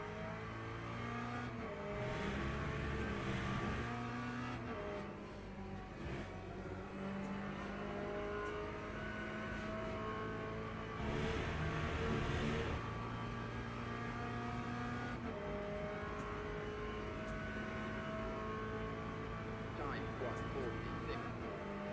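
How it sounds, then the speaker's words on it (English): A Corvette GT3 race car in the Le Mans Ultimate racing game drones with a steady engine note throughout, revving and shifting as it powers out of a corner, under continuous talk. "So coming out of the last corner in the Corvette"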